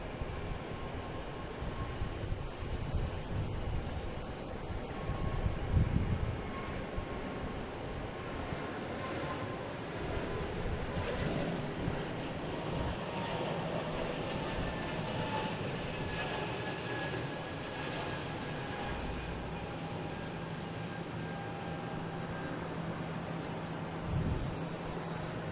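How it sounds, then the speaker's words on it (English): A JetBlue Airbus A220 headed to Nashville takes off, a distant low rumble of jet engines with a faint whine, building gently then holding steady over a long stretch, no voices. "next taking off is a JetBlue heading to Nashville"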